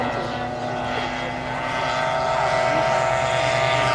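A 40% scale model aircraft flies at the Blackbush 2014 model aircraft show, its engine a loud, steady, droning roar with a slight rise and fall, filling the whole clip with no talk.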